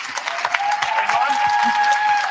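A crowd applauds panelists leaving the stage at a Second Chances Month celebration; scattered claps ring out while a voice carries on beneath them, with a steady tone humming in the room.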